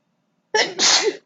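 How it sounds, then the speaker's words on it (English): One sharp, close sneeze bursts out after a moment of silence. "that sneeze finally come out"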